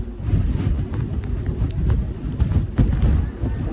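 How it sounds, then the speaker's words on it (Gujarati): Strong, dangerous wind on Girnar hill near Junagadh roars and buffets the microphone in a steady, dense rumble with gusty surges throughout, loud and close. "ખતરનાક પવન હે"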